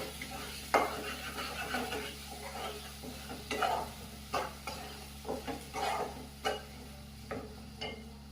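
Chicken curry with added salt being sautéed in a pot, with repeated scraping stir strokes and a soft sizzle underneath, fairly quiet and irregular throughout.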